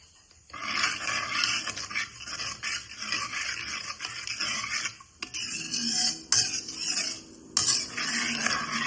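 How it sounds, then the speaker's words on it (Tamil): Black dhal porridge stirred steadily in a pot, a continuous scraping and sloshing of spoon against the pot with brief clinks, close and fairly loud, no talking. "விடாம நாங்கள் கலந்து கொண்டு இருக்க வேண்டும்."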